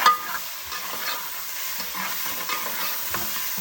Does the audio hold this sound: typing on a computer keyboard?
no